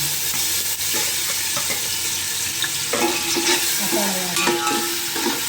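Masala fries in hot oil for a Godavari-style fish curry, giving a bright continuous sizzle with stirring scrapes and spoon clinks against the pan, close and fairly loud, with no talking.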